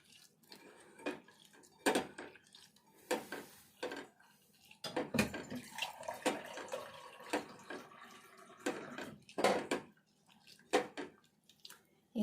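Soaked tamarind being squeezed and mixed by hand in water for an old-style raw tamarind dish, giving soft wet squelches and splashes with intermittent clinks of a vessel, close and fairly quiet, no talking.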